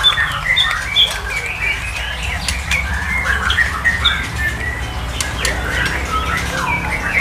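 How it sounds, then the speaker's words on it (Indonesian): Golden pentet shrike calling at a large bird farm, repeated bright chirps and short whistled notes over steady background noise, no talk. "Itu pentet golden, Mas."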